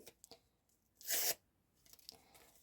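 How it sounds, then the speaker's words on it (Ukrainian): A small paper surprise packet is torn open: one short, close, crisp tearing burst with faint rustling before and after. "Так добре тут відкривається пакетик"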